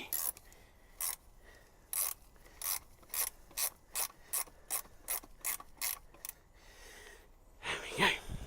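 A ratchet loosens bolts on the stand mount of a Honda VFR800 motorcycle, with about a dozen short, sharp clicking bursts at a steady pace, close up, then a brief scraping rustle at the end.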